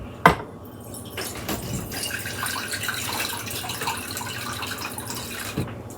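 Liquid from kkakdugi, Korean radish kimchi, drains in a steady, splashy trickle, opening with a sharp clink and a few faint knocks of a container during the pour.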